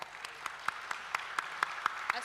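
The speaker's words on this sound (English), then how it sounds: "Please give them a round of applause." A conference audience at a DAO panel event claps, sparse, rhythmic single claps spaced evenly and heard faintly at a distance.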